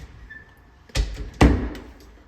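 A closet door in a property in Paonia, Colorado is opened, giving two dull wooden thuds about half a second apart against a quiet room background.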